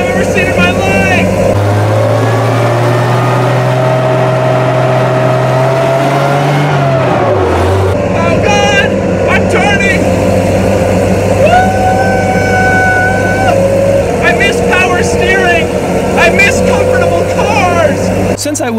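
A British armored military vehicle's engine drones loudly and steadily while driving through suburban streets, its pitch dipping briefly midway before settling again, with a voice talking over it at times.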